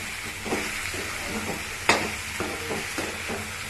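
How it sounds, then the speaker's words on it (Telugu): Green tomatoes sizzle steadily in hot oil in a pan for curry, with a run of close stirring scrapes and spoon knocks, including one sharp clack, over the continuous frying hiss. "ఇప్పుడు ఈ టమాటాలు వేసుకుందాం. టమాటాలు వేసుకొని మంచిగా"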